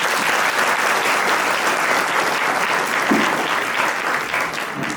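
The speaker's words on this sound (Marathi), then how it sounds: "तुमच्यासाठी एकदा टाळ्या वाजवा." Dense, steady applause from a large audience at an outdoor tree-planting drive, loud and continuous throughout with no pauses and no speech over it.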